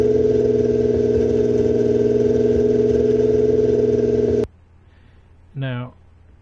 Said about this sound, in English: here we're going to go down here to the tank, the same exhaust at 2600 RPM